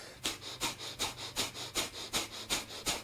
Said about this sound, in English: Breath of fire is a powerful ancient breathing technique where we're going to be breathing in and out through the nose and pumping the diaphragm